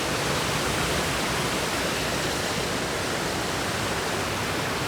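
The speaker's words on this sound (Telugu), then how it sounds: "పోచారము నీళ్ళు మస్తున్నాయి మంచిగా వస్తున్నాయి" Water pours heavily through Pocharam Dam, a dense, loud, unbroken roar that stays constant and close with no other sounds breaking through.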